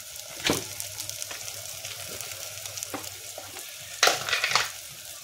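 Turmeric and spice powder frying in a pan for egg rice made from leftover rice hiss with a moderate sizzle, broken by a few louder scraping stirs, close by and with no one speaking.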